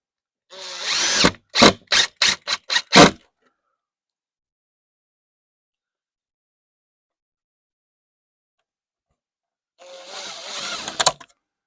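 A power drill drives screws in a series of short, sharp bursts, about six quick pulses in a row, then silence, then one longer whirring run close by.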